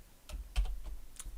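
A few quiet keyboard taps in irregular succession, close and soft, with no talking.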